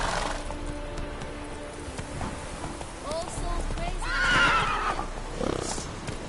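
Roach the horse in The Witcher 3 gallops with rhythmic clip-clop hoofbeats and gives a loud whinny near the middle, close and up front, over steady game background sound.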